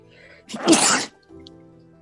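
A single loud sneeze bursts out in a classroom, standing alone against a quiet background, followed by a brief soft murmur.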